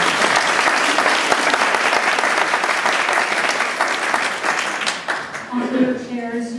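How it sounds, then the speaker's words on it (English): Sustained audience applause fills the room after a lecture on fine arts, dense and steady for about five seconds before thinning out, with a voice starting to speak as the clapping fades. "a good round of applause."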